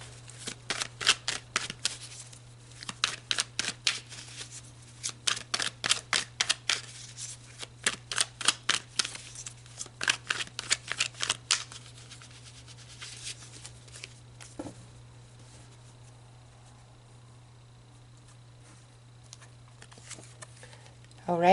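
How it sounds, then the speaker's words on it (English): Tarot cards shuffled by hand in a long run of quick riffling bursts, fairly close and crisp, over a steady low hum, then a quieter stretch as cards are set down. "let's pull some cards specifically"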